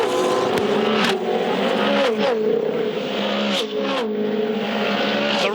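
A KFC-liveried Ford Falcon V8 Supercar racing hard at the 2009 Townsville 400. The engine screams loud and close throughout, pitch climbing and dropping sharply through quick gear changes.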